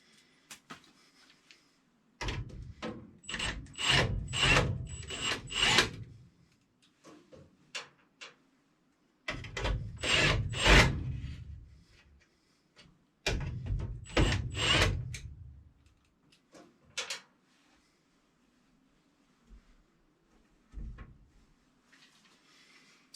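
Screws being removed from an inshot gas burner unit during servicing: bursts of clicking, ratcheting metallic ticks in three clusters with pauses between, close and moderately loud, ending in a few scattered faint clicks, no talk.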